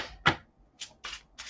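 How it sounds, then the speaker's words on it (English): Tarot cards being shuffled by hand, a few quick crisp riffling bursts separated by short pauses, close and fairly quiet. "just pre-shuffling"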